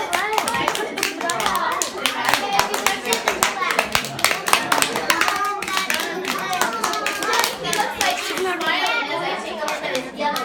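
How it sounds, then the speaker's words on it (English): Children clap at a nature center, a dense, steady patter of many small hands that runs unbroken and close, with kids' voices mixed in underneath. "please clap."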